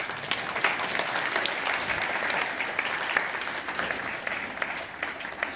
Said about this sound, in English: And now you can clap and stand up.